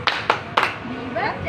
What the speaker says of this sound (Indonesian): mari kita tepuk kitab suci, tepuk kitab suci